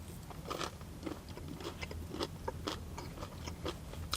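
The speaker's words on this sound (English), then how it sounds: "you bite into it, you get the crunch from the outside" Close-up crunching bites and chewing of crunchy Greggs chicken bites, a series of crisp cracks repeating irregularly with no talking.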